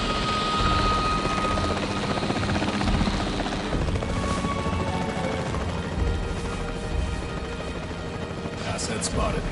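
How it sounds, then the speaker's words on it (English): A capture team helicopter in a video game thrums steadily with a low rotor drone throughout, mixed with bursts of game effects and in-game voice chatter. "The priority needs to be tranquilizing it with the capture team chopper."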